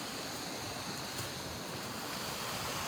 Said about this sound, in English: let's take a look at the waterfall real quick.